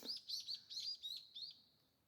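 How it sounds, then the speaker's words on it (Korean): Sparrows chirp on a mountaintop, a quick run of six or seven bright, high tweets in an even rhythm, faint and somewhat distant, fading away at the end with no other sounds. "새소리, 지저귀는 소리가 아주 청하게 맑다."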